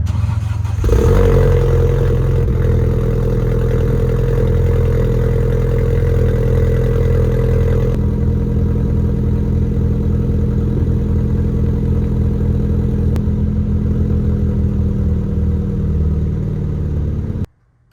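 An Audi 1.8T engine with a 2.5-inch aftermarket downpipe rumbles close by with a deep, throaty exhaust, idling and revving briefly before settling into a steady burble, then cutting off at the end.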